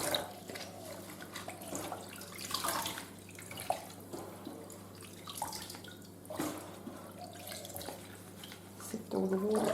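Tap water running over mint leaves being rinsed in a sink, with uneven splashing and gurgling surges, fairly soft and close.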